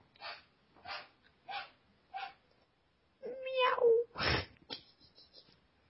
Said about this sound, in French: Saloperie de chat